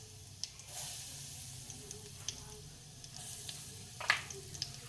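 Mustard seeds and turmeric sizzle in hot oil, a tempering for homemade buttermilk kadhi: a steady close hiss with scattered small pops and a sharper crackling burst near the end.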